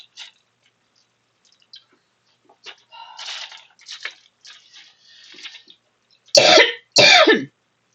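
A person coughs twice, loud and close, after a stretch of quiet throat sounds and shuffling.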